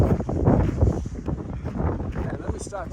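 Strong, gusty wind buffets the microphone in an open alpine zone, a steady roar that swells and eases under a person talking.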